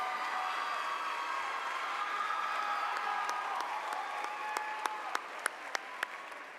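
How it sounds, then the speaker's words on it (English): A graduation audience in a large hall breaks into sustained applause, a dense wash of many hands clapping at a distance, with a few sharper individual claps standing out near the end. "And I just would like a round of applause."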